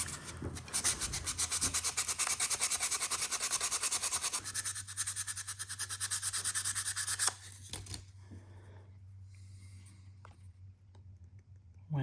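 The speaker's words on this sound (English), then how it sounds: "I'm going to use the sandpaper again." Sandpaper rubbing back and forth over an old Winchester pocket knife blade, a fast, steady rasping scrub that runs loud and continuous for about seven seconds, then stops, leaving a low hum with faint handling sounds.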